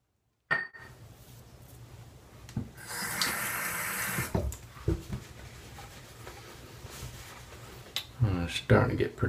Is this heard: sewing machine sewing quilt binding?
no